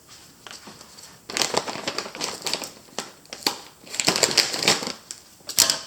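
Scissors snip and crunch through a plastic bag of potting soil in a series of irregular close cuts, with crinkling plastic between the snips.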